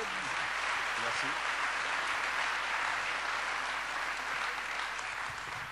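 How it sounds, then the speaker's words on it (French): Audience at a regional business award ceremony gives sustained applause, a dense even wash of clapping from a large crowd lasting several seconds, moderately distant. "Sous vos applaudissements, s'il vous plaît."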